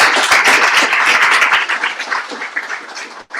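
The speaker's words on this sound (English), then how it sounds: "Give her another round of applause." An audience claps after a public speaking performance, a brief burst of dense applause that quickly tapers into a few scattered claps.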